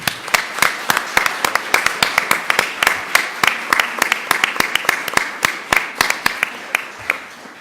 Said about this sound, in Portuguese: eu vou pedir a todos que estão aqui uma salva de palmas a todos estes jovens